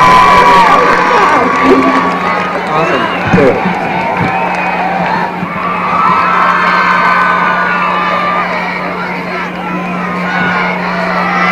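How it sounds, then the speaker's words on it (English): A large crowd at a college homecoming cheers, whoops and claps for the crowned king and queen, a loud continuous roar with shouts rising above it and voices mixed in throughout. "Ladies and gentlemen, let's have a big round of applause for Spencer Bell and Morgan Dell"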